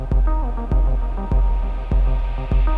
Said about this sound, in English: You hear in this case I'm feeding the reverb back in itself.